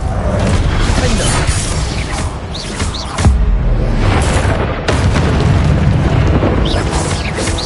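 Flipendo spell casting in Hogwarts Legacy, loud booming magical bursts and whooshes layered over busy game effects, with a brief lull near the middle before the blasts pick up again.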